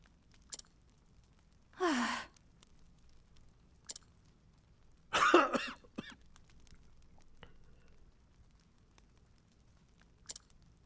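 A character in the video game Octopath Traveler coughs in two short, breathy bursts, soft and isolated against near silence, with a few faint clicks between them.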